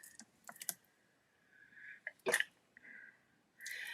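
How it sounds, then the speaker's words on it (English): A single sharp sneeze bursts out in a quiet room, preceded by faint clicks and tapping sounds. "Sorry, I had to sneeze."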